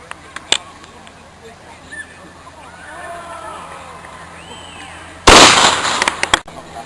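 A loud black powder muzzleloader fires once at an outdoor rendezvous, a sharp booming blast with a brief rolling tail late in the clip, after quiet outdoor ambience with faint voices and a small pop.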